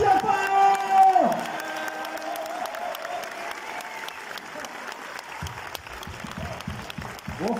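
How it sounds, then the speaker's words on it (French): An audience at a film premiere applauds the director and his actor, steady close clapping with scattered cheers running throughout, while a host's voice speaks over the opening moments. "on les applaudit bien fort"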